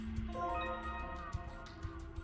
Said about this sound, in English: while a harpsichord has its string plucked